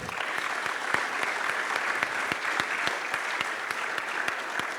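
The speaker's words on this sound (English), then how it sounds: "Please give them a round of applause" Steady round of applause from a conference audience for panelists at an Africa plenary and awards ceremony, continuous clapping at even loudness throughout.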